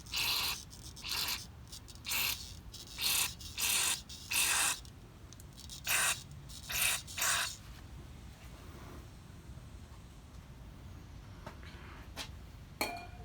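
Several short hissing aerosol spray bursts onto Solex carburetors of a Mercedes 190SL, each about half a second, in an irregular sequence before falling quiet, close and moderately loud.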